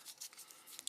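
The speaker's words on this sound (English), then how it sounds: "So shuffle, shuffle, shuffle." A deck of cards from the board game Honey Buzz is shuffled by hand, making soft, quick riffling and crinkling bursts in an uneven rhythm, faint and close, with no talking.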